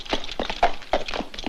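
Horse hooves clip-clop in a quick, uneven rhythm of about five or six hits, close by and fairly loud, with no talking.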